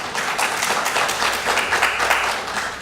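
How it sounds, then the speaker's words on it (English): Audience applause for a quality-assurance team at a talk on writing programs, steady dense clapping throughout at moderate loudness, with no talk over it. "could you just give them a round of applause?"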